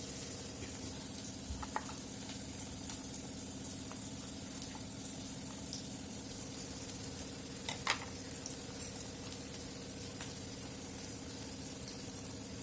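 Onion frying in a pan while dried bombil thecha is cooked, a steady low sizzle running throughout with occasional faint clinks and no voices.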